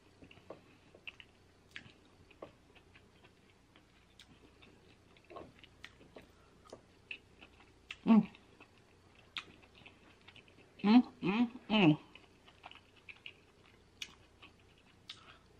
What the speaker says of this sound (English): Sorry, I'm smacking.